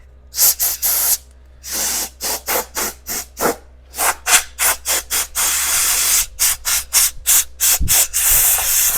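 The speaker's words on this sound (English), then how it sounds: "Okay, got a little air compressor going here." Small air compressor nozzle blowing off a freshly turned American elm piece in a woodturning shop, loud close hissing bursts, several long blasts then a quick run of short rhythmic puffs, no talking.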